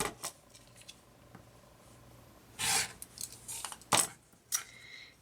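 Scissors cutting a square of quilt fabric diagonally in half, a few short crisp snips and rustles at close range, heard alone against a quiet background.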